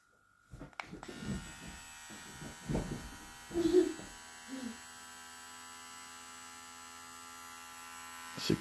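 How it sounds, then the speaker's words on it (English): A Limural LM 7250 hair trimmer hums steadily at low speed, around 5000 RPM, a faint continuous electric buzz with scattered handling knocks and a few brief murmurs. "This trimmer got 5000 RPM."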